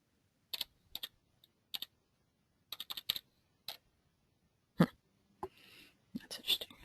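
Scattered keystrokes tap on a computer keyboard as numbers are entered, quiet isolated clicks and short bursts with pauses between them in a quiet room.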